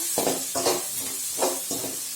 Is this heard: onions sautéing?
yes